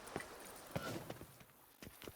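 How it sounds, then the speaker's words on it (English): Horse hooves clip-clop in a rapid irregular rhythm in The Witcher 3: Wild Hunt, a short run of sharp hoofbeats heard fairly close over quiet game ambience. "Even a horse drops if you ride it at a constant gallop."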